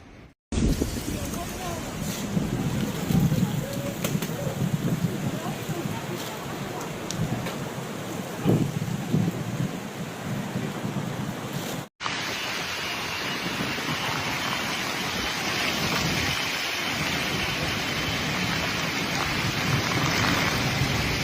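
Heavy rain hisses steadily in a storm system over Guangdong, China, with gusting wind and possible low rumbles of thunder, a broad continuous wash that cuts briefly near the middle before resuming at similar strength.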